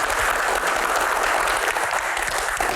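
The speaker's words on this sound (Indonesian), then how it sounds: "Tepuk tangan." An audience at a Q&A talk show applauds with steady, dense clapping that fills the room continuously.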